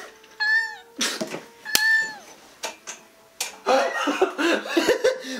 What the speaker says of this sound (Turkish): Sonuna bir de kedi sesi koymuş bak.